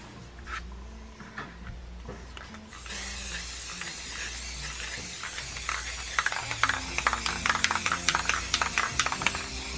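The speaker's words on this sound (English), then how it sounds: "that's ready for some spray paint" Spray paint hisses from a can onto fall home decor, a steady close spray that starts a few seconds in, with faint clicks and rattles alongside.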